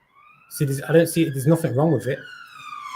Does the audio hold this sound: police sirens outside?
yes